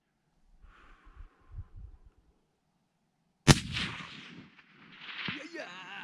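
A single sharp, loud rifle shot rings out during a fallow deer hunt, ringing into a decaying echo, preceded by faint low murmurs and followed by a voice.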